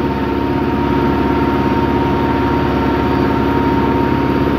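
A Sonalika 75 HP World Track tractor pulls a 24-disc harrow across a harvested maize field, its engine a steady, loud, continuous low drone with no break or change in pitch.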